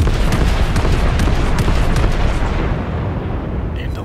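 The battleship Fuso fires its heavy main guns in World of Warships, a loud, continuous booming salvo that rumbles and fades over a few seconds, with no talking.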